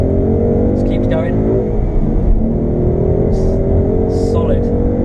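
A Ford Mustang GT with a manual gearbox accelerates hard through the gears, its engine note rising in pitch beneath intermittent talking, with brief shifts between pulls.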